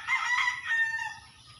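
A rooster crows once, close and clear, in a short, wavering call that trails off.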